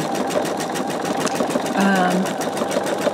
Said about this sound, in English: it's going to do one stitch all the way around, just kind of, I think it's called a bean stitch